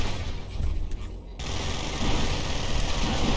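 Rapid gunfire and dense bursts from a strafing run in Ratchet & Clank: Going Commando, a steady barrage of shots and booms that continues for about three seconds with no pauses and no speech.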